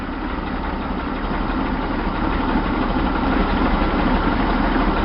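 A Chevy 230/250 straight-six engine fitted with a Weber two-barrel carburetor idles and revs slightly while warming up, a loud, steady mechanical rumble close to the listener with no voices.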